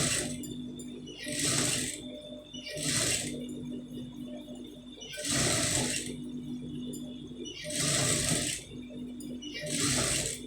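A sewing machine stitches a round neckline on a garment in bursts of steady whirring, five runs of roughly a second each separated by short pauses, close and fairly loud with no talking.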